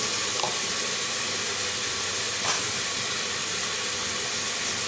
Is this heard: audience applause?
no